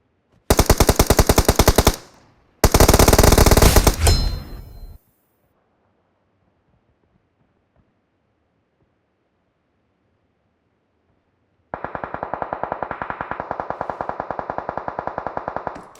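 Rapid automatic gunfire from a shooting video game, two loud sustained bursts close together, then quiet, then a longer rattling burst near the end, with no speech.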